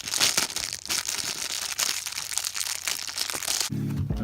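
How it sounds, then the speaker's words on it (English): Crinkling and crunching of a plastic bag as an item is pulled out of it, a steady close-up rustle with sharp crackles, ending in a brief low thump. "let me get this out of the plastic"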